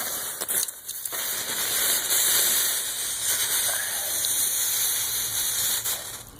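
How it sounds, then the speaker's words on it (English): Water poured onto a hot oxalic acid vaporizer used for treating bees against varroa mites, a loud close hissing rush of steam that sputters at first and then holds steady for several seconds. "And then pour water on it."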